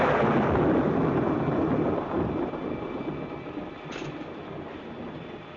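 A thunderstorm with rain in a 1946 film scene: a heavy, continuous low rumble with a steady rain wash, loudest at first and easing slightly, with no talking.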